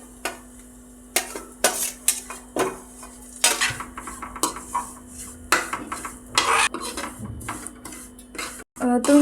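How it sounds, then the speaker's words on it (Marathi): Vermicelli roasting in a kadai, stirred with a metal spoon: repeated sharp scrapes and clanks against the pan over a low background hum, in an uneven rhythm. "आपण त्याच कढईमध्ये शेवया पण भाजून घेऊयात हलकंसं लाल रंग येईपर्यंत।"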